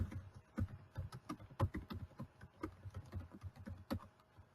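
Someone types a message on a computer keyboard, with irregular close key taps and a few louder keystrokes over a quiet background, and no talking.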